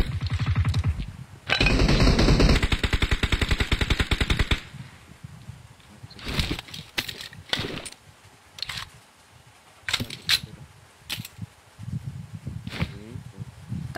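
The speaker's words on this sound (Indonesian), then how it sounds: "ada lagi tembak, dia tembak Roro." Rapid automatic gunfire from a shooting video game, with a loud sustained burst early on followed by scattered single shots and shorter bursts.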